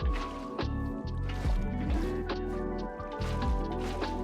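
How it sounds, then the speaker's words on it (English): Water blocks placed in Minecraft make repeated liquid splashing and flowing sounds, several distinct placements in a rhythmic sequence over a steady low game hum. "we're going to fill this up with water"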